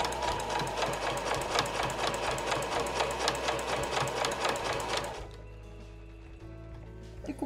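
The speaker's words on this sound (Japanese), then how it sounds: "ではそのままこのエッジにこの端が合うようにして縫っていきましょう。" A sewing machine stitches Marimekko cotton fabric for a tote bag, running in a fast steady rhythmic whir for about five seconds before stopping, followed by faint handling noises and no talk.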